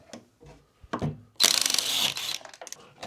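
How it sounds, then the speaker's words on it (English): A ratchet clicking as 5mm hex screws holding the motor are backed out of an Inmotion V9 electric unicycle, a rapid burst of close ratcheting after a few scattered handling knocks. "now we're going to remove the 4 5mm hex screws that hold the motor in"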